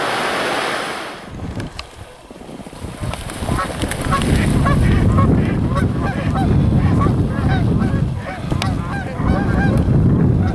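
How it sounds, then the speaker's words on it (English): Loud, repeated honking of geese, with mallards, over a windy, surf-like rush, calls crowding together as the flock takes off. "assortment of mallards and geese I just scared off."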